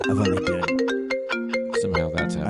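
Phone ringtone routed through a computer, a bright melodic tone pattern repeating in short pulses, playing under people talking.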